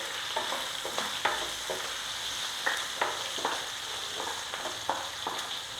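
Onions with salt sautéing in a pan for a vaval fish kuzhambu: a steady close sizzle broken by light, regular stirring scrapes throughout.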